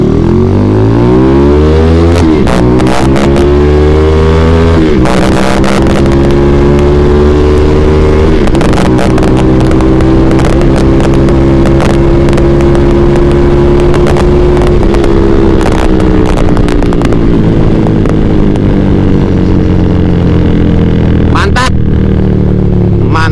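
A motorcycle fitted with a PWK 35 Air Strike carburetor revs hard and close, its engine climbing and falling through repeated throttle blips at very high, clipping loudness.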